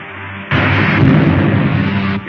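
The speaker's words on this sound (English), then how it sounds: "Fire a blast into the tail surface as I level out." Blaster fire striking a spaceship's tail in a 1953 science-fiction film comes as a sudden loud, sustained roaring burst that holds for nearly two seconds before cutting off.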